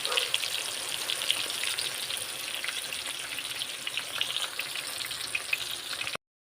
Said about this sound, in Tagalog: Fried chicken. So hayaan, hayaan na muna natin maluto yan guys.